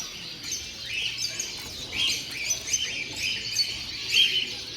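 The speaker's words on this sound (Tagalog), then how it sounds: "Ito yung hen na galing kay Rex" Show birds, hens among them, at a New Zealand bird show give a busy chorus of chirps and tweets that stays fairly quiet. The calls overlap and come in small bursts, with no voices.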